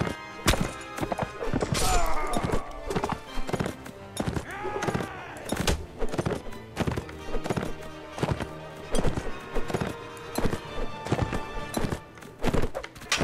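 Horse hooves clip-clop at a gallop as a rider charges forward in the medieval game Mount and Blade: Warband, with repeated rhythmic thuds, an occasional whinny and loud game sounds throughout.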